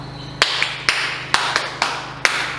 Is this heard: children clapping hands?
yes